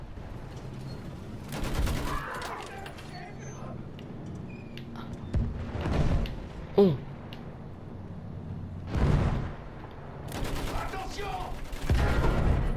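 Bursts of rapid gunfire and heavy booming explosions in the video game Battlefield 1 recur over a low mechanical rumble, while voices speak briefly between the blasts.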